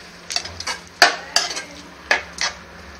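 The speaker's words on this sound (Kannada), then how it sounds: "ಚೆನ್ನಾಗಿ ಮಿಕ್ಸ್ ಮಾಡ್ಕೊಳ್ಳಿ." Tomatoes and salt are stirred in a pan, a spoon scraping and clacking against the metal in about six separate strokes over a faint sizzle, close by and alone.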